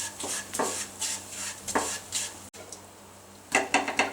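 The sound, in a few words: stirring roasted semolina with herbal powder and jaggery syrup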